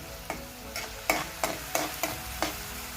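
Onions frying in a pan for anda bhurji, with a steady low sizzle beneath about seven evenly spaced scraping strokes of a spoon stirring them, close and moderately loud.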